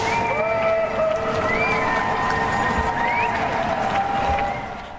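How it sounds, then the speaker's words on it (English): Crowd in Midtown Atlanta cheering and clapping at 8 o'clock at night for first responders: a sustained wash of distant applause and whoops with scattered whistles, fading slightly at the end. "Cheers and clapping filled the air at 8 o'clock tonight"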